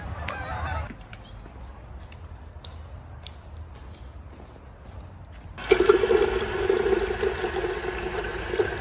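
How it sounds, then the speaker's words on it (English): Geese honk in a noisy chorus that swells partway through, over a steady rush of water in the background. "So many geese."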